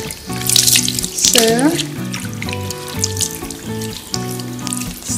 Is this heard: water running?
yes